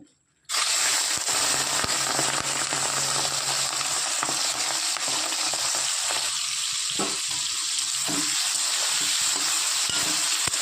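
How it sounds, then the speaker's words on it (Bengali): Prawns fry in hot oil for a Bengali jackfruit-and-prawn dish, giving a loud, steady sizzle with crackling pops that starts abruptly and carries on close up, with no talking. "এদিকে তেল গরম হয়ে গেছে, মাছগুলো ভেজে নেব।"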